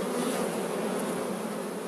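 Honey bees disturbed during a spring hive inspection buzz in a dense, continuous drone, close and steady for the whole moment with no voices.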